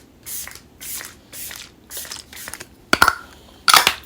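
A hydrating face spray misted onto the face during bridal makeup, heard as a run of short, close hissing bursts in a steady rhythm, with a few sharper, louder sprays at the end and no talking.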